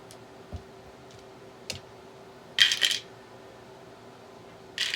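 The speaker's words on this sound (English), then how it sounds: "I'm going to go ahead and pick some dice, and we'll get to betting." Red dice are picked up for a game of craps, producing a few light clicks and then a short rattling clatter of dice against each other, repeated near the end, close by in a quiet room.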